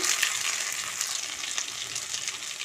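Crushed garlic cloves fry in hot oil for a tempering, giving a continuous close sizzle with crackling pops and light stirring, with no talk.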